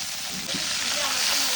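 Fish frying in a pan at home, the steady oil sizzle running continuously and fairly loud, with occasional stirring noises and a faint voice in the background.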